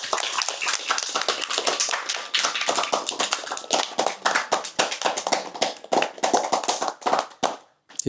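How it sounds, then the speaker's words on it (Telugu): Audience at a meditation session clapping loudly and steadily for several seconds, dense overlapping claps that fade to a few last scattered hand claps near the end. "చప్పట్లు కొట్టడం అంటే బాగా ఇష్టం ఉన్నట్లుంది"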